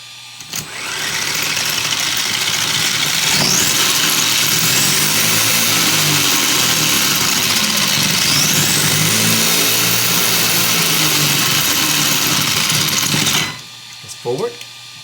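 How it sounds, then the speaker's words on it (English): Brushless motor in a Deerc 9201e RC car running steadily for about thirteen seconds, a loud continuous whine with shifting pitch and ratcheting mechanical texture, then cutting off abruptly near the end. "Now, I'm going to run the motor."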